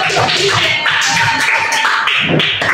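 Students clap for a group that has just finished presenting in an Indonesian classroom, giving loud, close, continuous clapping for nearly three seconds amid some chatter.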